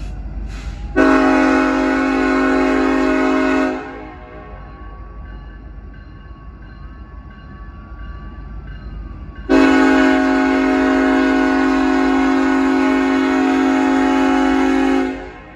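Norfolk Southern freight 13R, led by locomotive NS 1111, crawls through Pineville, North Carolina, giving two long, loud, steady horn blasts separated by a quieter stretch of low rail rumble and a faint tone.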